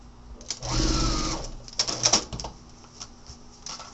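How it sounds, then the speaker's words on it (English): A sewing machine stitches a seam through a paper-pieced quilt block in a short, steady run of about a second. A few quieter clicks and brief machine starts follow in a quiet room. "And we're just going to stitch right in that seam allowance."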